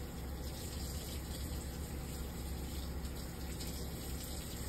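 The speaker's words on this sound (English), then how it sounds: "I'm rinsing the denture. And I'm also rinsing the brush." Steady running tap water as a denture and toothbrush are rinsed under the faucet, a continuous even rush without pauses and no talking.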